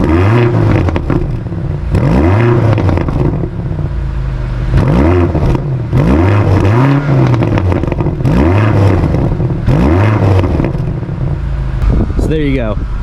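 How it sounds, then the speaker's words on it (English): BMW XM with a 4.4 engine, warmed up, revved in a series of about six loud rising and falling blips at steady intervals, close and deep, with exhaust rumble between each. "let's give you a couple revs"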